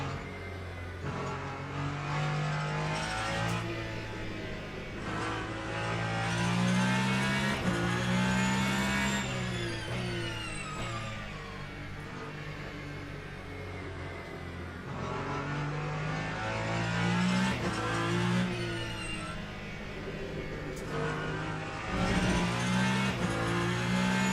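A GT3 race car in Le Mans Ultimate rolls out slowly to warm its tyres, its engine droning steadily and rising and falling through gentle throttle changes, loud and continuous with no speech.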